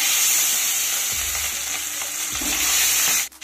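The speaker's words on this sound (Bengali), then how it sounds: "এবার ট্যাংরা মাছগুলোকে ভেজে নিতে হবে।" Tengra fish fry in hot mustard oil, giving a loud, steady crackling sizzle that fills the whole stretch. A few soft knocks of utensils on the pan come near the end.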